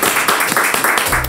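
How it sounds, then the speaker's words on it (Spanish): Brief applause during a hot sauce tasting with the world's spiciest salsa, a quick round of close, lively clapping from a few people, bright and loud. "¡Vamos! ¡Un aplauso!"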